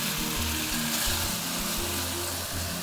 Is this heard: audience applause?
no